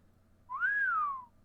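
A single rising-then-falling whistle from a character in Fate/Grand Order, one smooth clear tone lasting under a second, fairly close and alone over a faint low background hum.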